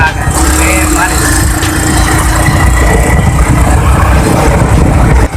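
Motorcycle engine running steadily while riding, a loud continuous rumble with wind noise throughout.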